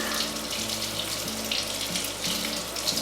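A water tap runs steadily into a sink or tub where a puppy is bathed at home, a continuous close hiss and splash with no talking.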